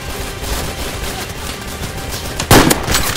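Minigun fire in Garry's Mod, a steady rattling barrage of rapid shots running through the whole stretch, with a louder burst near the end.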